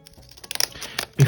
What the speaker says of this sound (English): might as well just cut it now.